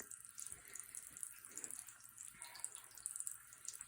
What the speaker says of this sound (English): I have the water running for you